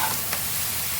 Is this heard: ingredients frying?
yes